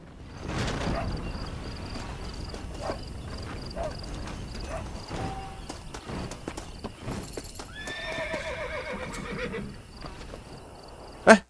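A horse in the game Red Dead Redemption whinnies close up and clip-clops over ambient game sounds, with chimes and small interface noises and a sharp burst at the end.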